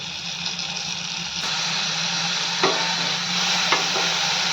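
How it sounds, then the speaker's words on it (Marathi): Onion and curry leaves sautéing in a pan for upma, with a steady close sizzle and a few brief stirring knocks against the pan. "कांदा छान भाजत आलाय आता आपण त्याच्यात कढीपत्ता घालून घेऊयात कढीपत्ता परतून झाला की त्यात घालून घेऊयात टोमॅटो"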